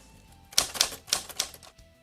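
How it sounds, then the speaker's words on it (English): Typewriter keys strike in a quick uneven burst of about five or six crisp mechanical clacks, close and isolated against quiet background. "Just a second of typewriter"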